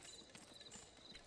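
Horse hooves clip-clop in a steady rhythm in the Western video game GUN, faint and fairly close, mixed with a soft wash of game ambience and no talk.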